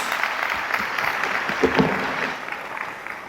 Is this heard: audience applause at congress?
yes